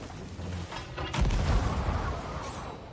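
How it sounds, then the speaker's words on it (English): A single cannon boom goes off in the pirate video game Sea of Thieves, landing about a third of the way in at moderate distance. A steady rumble of sea and ship ambience runs underneath it. "I heard a cannon's in front of us."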